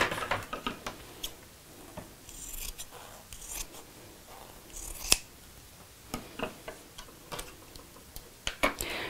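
Scissors snip through fabric for a zipped coat hanger cover, a run of crisp separate cuts and small rustles, close and fairly quiet with short pauses between strokes.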